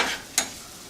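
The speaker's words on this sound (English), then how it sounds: "Once it gets sizzling a bit" Basil and oregano sizzle in a frying pan as they are stirred for a spaghetti dish: a soft, close hiss that fades, broken by one brief sharp scrape of the stirring.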